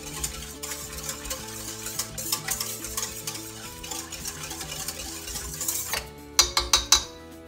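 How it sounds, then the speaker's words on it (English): Bread dough mixture stirred by hand in a bowl, a soft steady scraping and swishing that runs continuously, ending in a few sharper clinks of the utensil against the bowl rim. "I'm just going to give that a little stir"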